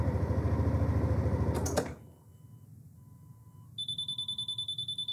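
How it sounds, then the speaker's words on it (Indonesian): A Yamaha All New NMAX 155 scooter engine idles and then cuts off. After a short quiet, its smart-key alarm beeps in rapid, repeated pulses, signalling the key is away from the scooter. "saya akan mematikan uh, motor ini nanti dia akan berbunyi alarm"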